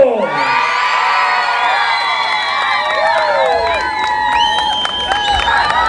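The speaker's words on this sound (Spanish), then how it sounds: "El grito y el aplauso para la uno" A crowd at a village Mother's Day dance contest roars for the first contestant, with shrill whoops, whistles and children's shouts layered over faint clapping, staying loud and lively throughout.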